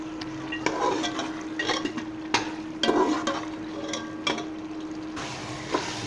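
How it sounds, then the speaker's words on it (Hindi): Eggplant and chickpeas being fried in cooking oil, stirred in the pan: a steady sizzling hiss broken by repeated metal spoon clanks and scrapes against the pan, close and fairly loud, with no talk. "और इनको मैं कुकिंग ऑयल में अच्छे से भुनाई करूंगा तकरीबन 10 मिनट के लिए"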